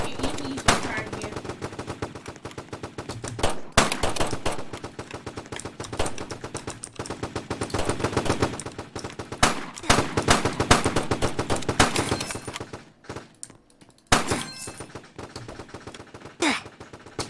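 Rapid automatic gunfire rattles through a Roblox shooter game called Foblox. Dense bursts of shots repeat with short pauses, and a player talks faintly now and then underneath.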